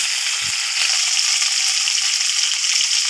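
Loud, steady sizzling as tomatoes drop into hot oil with frying onions, green chili and curry leaves, preceded by a brief soft thump as they land, then a continuous close crackle.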